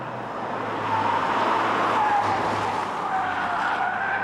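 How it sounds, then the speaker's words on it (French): Tyres of a Mitsubishi Lancer Sportback Ralliart squeal while the car corners on the road, a steady, loud screech that rises and holds over engine and road noise for about four seconds. "Les pneus hurlent leur douleur bien avant qu'on ait pris le moindre appui digne de ce nom"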